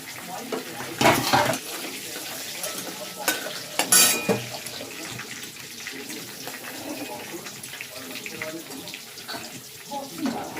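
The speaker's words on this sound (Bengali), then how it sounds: "আমি প্রথমে শুকনো লঙ্কা দিয়ে দেবো, গরম মশলা, তেজপাতা।" Dried red chillies, garam masala and bay leaves sputter in hot oil for a chicken masala. A low, steady crackle is broken by a few loud bursts of clattering and hissing near the start.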